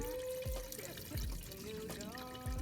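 Washer fluid pours from a full container in a steady liquid trickle, with a few hollow glugs and soft thumps breaking the flow.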